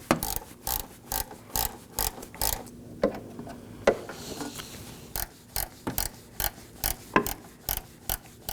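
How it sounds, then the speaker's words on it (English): A hand ratchet clicks in quick, regular bursts while snugging a bolt on the hood hinge of a 2018-2024 Chevrolet Equinox, with metallic ratcheting repeating up close. "Now I'm going to snug up my first bolt,"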